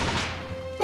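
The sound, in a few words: firework imitating a gunshot in Great Ace Attorney 2 video game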